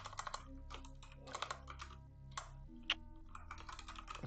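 Bursts of rapid keyboard typing while writing code, clustered clacks in quick runs separated by short pauses, close and moderately quiet over a faint hum.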